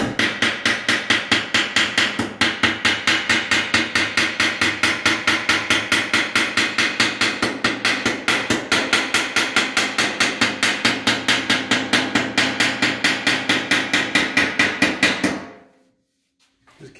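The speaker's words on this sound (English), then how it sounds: "Lots of hammer." Rapid, steady hammer blows on metal fender skirts being shaped for a Model A Ford, a loud close-up drumming pattern at several strikes per second that continues for about fifteen seconds, then stops abruptly.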